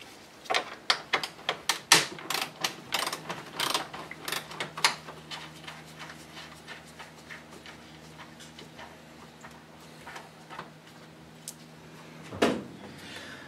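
A hand ratchet works loose the 12 mm bolts on the radiator bracket of a 2005–2009 Lexus RX 400h, sounding as a rapid, uneven run of close, crisp clicks and ticks with pauses, then a sharper metallic knock near the end.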